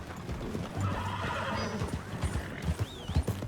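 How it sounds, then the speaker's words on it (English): A horse in Red Dead Redemption 2 whinnies loudly with a rising, shaky call near the end, over hoof clops and background game ambience. "That new horse?"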